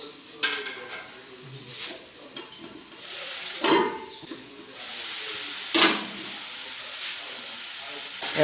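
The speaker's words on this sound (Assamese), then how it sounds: "আলু ভাজি আৰু লেচেৰি মাহ বনাই আছোঁ" Potato fry cooks in a pan in a home kitchen, giving a soft ongoing sizzle and hiss of steam broken by several sharp bursts and occasional clinks of utensils against the cookware.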